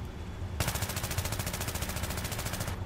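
Sustained full-auto AEK-971 rifle fire in Battlefield 3, a fast steady stream of shots running about two seconds, loud and close, with no talking.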